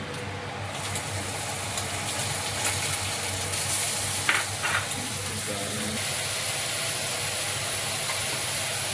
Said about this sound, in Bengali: এই মশলাটা এবার দিচ্ছি তেলে